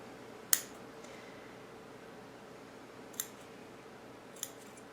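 Three sharp, isolated snips of paper scissors cutting fabric sound in a quiet room, spaced a few seconds apart, the first one loudest.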